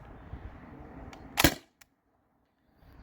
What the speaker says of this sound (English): So we're pressurized and start firing.